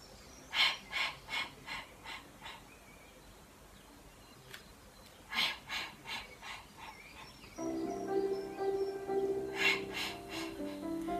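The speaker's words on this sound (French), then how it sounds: "On se concentre sur la respiration." Rhythmic breathing during a Pilates exercise comes in short clusters of sharp breaths through the nose or mouth, close to the microphone. A faint tone or music enters partway through.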